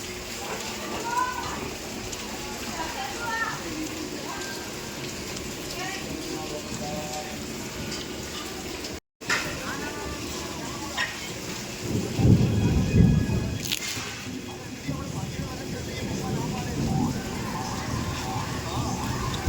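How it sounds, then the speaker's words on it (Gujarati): Steady heavy rain pours throughout, with a low rumble of thunder swelling midway; faint voices can be heard beneath the downpour. "વરસાદ ધબાધબી ચાલુ થઈ ગયો હોય, વીજળી પણ પડે છે, એવો વરસાદ આવે"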